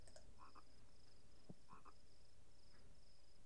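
A frog in a video game croaks in short bursts after being clicked, set against a steady high-pitched chirping ambience, with no speech.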